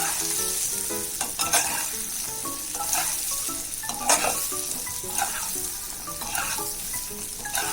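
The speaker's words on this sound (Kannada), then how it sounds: "ಇವಾಗ ಇದನ್ನ ಚೆನ್ನಾಗಿ ರೋಸ್ಟ್ ಮಾಡ್ಕೋಬೇಕು ಎಣ್ಣೆಲೇನೆ." Stuffed okra (bhindi) roasting in oil in a pan, a steady close sizzle with occasional stirring scrapes and clinks running throughout.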